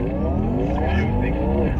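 A Porsche Taycan Turbo GT electric car weaves through a tight slalom, its motor whine rising and falling over loud, steady road and tire roar, heard close from inside or near the car.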